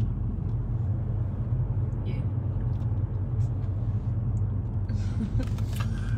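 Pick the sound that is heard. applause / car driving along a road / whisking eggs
car driving along a road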